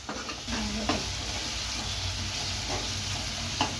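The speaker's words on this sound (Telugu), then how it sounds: "ఆ పచ్చి వాసన పోయేదాకా అలా వేపుకోవాలండి" Ginger garlic paste fries in a pan for an Andhra-style drumstick and chana dal curry, giving a steady close sizzle with occasional stirring scrapes and no talk.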